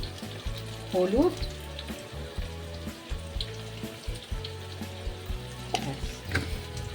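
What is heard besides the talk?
onion and tomato frying as poppy seed paste is added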